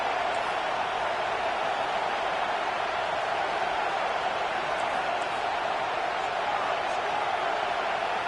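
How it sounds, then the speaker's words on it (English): Crowd noise in a college football video game, a steady broadband roar with no pauses that fills the whole clip. "Decibels rising as the crowd gets behind this defense on third down"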